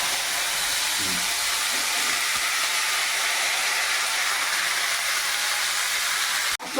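Potatoes dropped into hot oil in a thin wok sizzle with a loud, steady, hissing roar that holds constant, ending with a brief knock.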